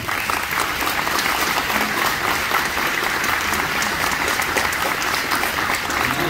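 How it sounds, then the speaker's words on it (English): Audience at a Memorial Day gathering gives a round of applause, dense steady clapping from many hands, fairly close and even for several seconds with no talk over it. "Let's give her a round of applause."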